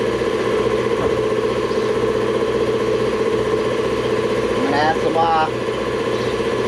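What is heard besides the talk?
air compressor running, building up pressure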